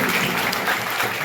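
A college audience claps for a short, dense burst of applause, loud and continuous throughout.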